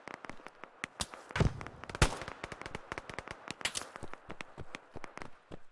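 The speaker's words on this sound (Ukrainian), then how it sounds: "Та по тобі стріляють уже, друже." Rapid bursts of video game gunfire in Operation: Harsh Doorstop, sharp cracks and pops in irregular clusters, some single shots and some quick volleys, with no talking.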